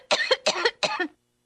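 Three raspy coughs in a row, close and clear, each a short harsh burst with a brief gap between, ending in silence.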